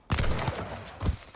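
Gunfire in Call of Duty: Vanguard, two loud, close bursts of shots about a second apart, each trailing off with a short echo.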